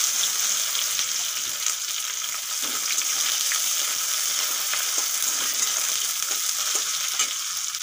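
Chopped onion drops into hot oil with cumin seeds and whole dried red chillies and sizzles steadily and brightly up close, with light stirring scrapes over the continuous frying hiss.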